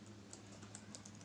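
Fingers typing a short message on a computer keyboard, a quick run of soft, close key clicks over a steady low hum, no voices.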